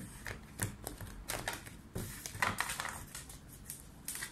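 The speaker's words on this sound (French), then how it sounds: "J'arrive même plus à mélanger les cartes." Tarot cards are shuffled by hand, giving close, quiet, irregular flicks and riffling taps in short bursts across a few seconds, with no voices.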